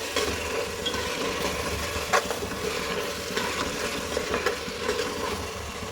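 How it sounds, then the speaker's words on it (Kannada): Onion masala with turmeric frying in a pan for chicken dum biryani, giving a steady, dense sizzle with a few scraping stirs, close and fairly loud, no talking. "ಈಗ ಅದು ಚೆನ್ನಾಗಿ ಫ್ರೈ ಆಗಿದೆ"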